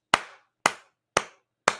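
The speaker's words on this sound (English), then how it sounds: "Golf clap." Golf clap: four slow, evenly spaced single hand claps, crisp and close, each ringing out briefly before the next, with silence in between.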